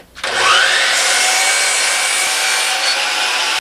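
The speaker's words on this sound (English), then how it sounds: "I have my table saw set at 4 foot" A table saw cuts through wood for a cornhole board frame, a steady loud whining blade tone with a rising pitch as it spins up, holding for about three seconds before it cuts off.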